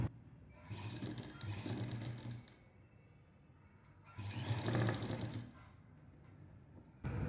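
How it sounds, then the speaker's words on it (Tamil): A sewing machine stitching the neck piece of a lined jacket runs in two steady, whirring mechanical bursts with a rhythmic rattle, close and clear. A quieter pause separates them, and a brief restart comes at the end. No one talks. "இந்த மாதிரி வச்சு இப்படியே தைக்க போகிறோம்."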